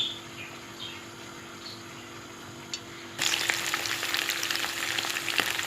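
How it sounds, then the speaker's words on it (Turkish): Meatballs drop into hot oil in a pan and start to fry. A quiet hiss turns abruptly into a loud, steady, crackling sizzle partway through, with faint birds chirping behind it. "Köftemizi tavaya attık kızgın yağda."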